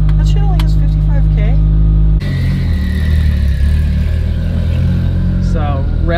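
A 2007 Subaru WRX STI engine drones under way, a steady mid-low rumble while driving, with people talking over it near the start and end.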